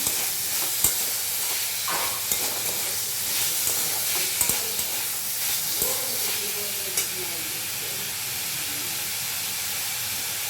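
Chopped green chillies hiss and sizzle in a hot pan of oil with a steady steam-like wash, punctuated by a few faint stirring clicks, during preparation of homemade chicken patties.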